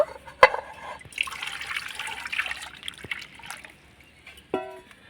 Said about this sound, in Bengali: এখানে আমি উষ্ণ গরম জল নিয়ে নিয়েছি, একটা পাত্রের মধ্যে ঢেলে নেব